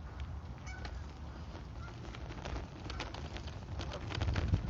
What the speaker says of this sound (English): look at all these geese up here